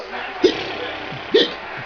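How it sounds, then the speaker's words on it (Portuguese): A three-month-old baby hiccuping, two short sharp hiccups about a second apart, close by, with quiet background noise between them. "Ela tá com soluço."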